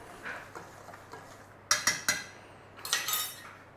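A spoon clinks against a bowl while rice flour, cornstarch and tapioca flour are mixed, a few sharp taps close by in two short clusters over soft rustling.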